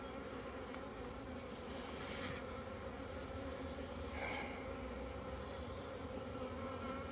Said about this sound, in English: That's the swarm.